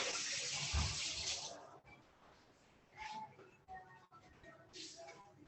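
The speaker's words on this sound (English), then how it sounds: "Rinse this off." Food is rinsed under a running kitchen tap, with a hissing stream at first, then quieter splashing and dripping while someone speaks softly.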